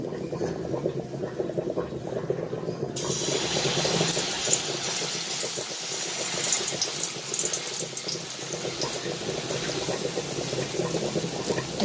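Pitha batter hits hot oil in a wok after a few quiet seconds and sets off a sudden, loud, bubbling sizzle that holds steady to the end, with no voices.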